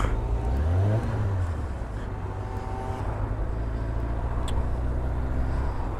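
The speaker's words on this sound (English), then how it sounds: "Just looking into the cars going past me" Steady road traffic rumbles past continuously, with a low engine drone and a rising note from one passing car near the start, heard over constant wind-like noise.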